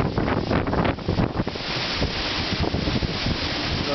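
Strong wind gust during a lakeside wind event in Manitowoc, Wisconsin, a loud continuous roar buffeting the microphone for the whole stretch without letup.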